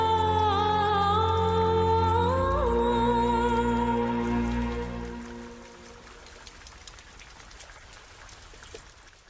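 Steady rain falls as a soft, even hiss that takes over once loud sustained music fades out midway, continuing alone and unbroken to the end.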